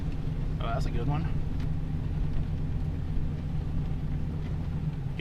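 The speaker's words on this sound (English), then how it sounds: "You guys get to hear some V10 right now" A Ford Econoline van's V10 engine idles and rumbles in a low, steady drone close by, with brief voices over it near the start.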